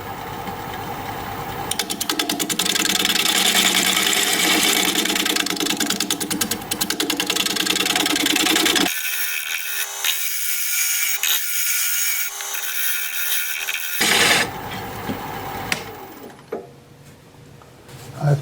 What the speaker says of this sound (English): I'm going to try shear scraping.